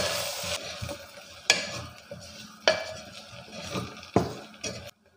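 Roasted spice powders sautéed in oil for Angamaly-style pork curry, a steady sizzle with four sharp spoon scrapes against the pan at regular intervals, the sound cutting off at the end.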